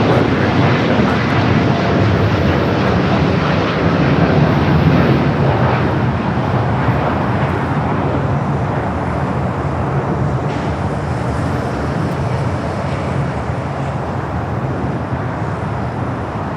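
A heavy Boeing 777 departs from LAX, its jet roar loud and continuous the whole time, slowly easing in strength as it climbs away.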